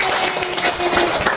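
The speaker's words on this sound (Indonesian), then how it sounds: "Tepuk tangan lagi." Classroom applause at a junior high school lesson in Indonesia, a short burst of many hands clapping together, dense and steady for about a second and a half with no voices over it.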